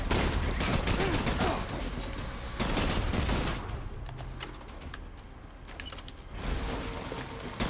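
Heavy gunfire on a WWI-style battlefield in the video game Death Stranding, dense bursts of shots and rattling volleys that thin out midway, then swell again toward the end.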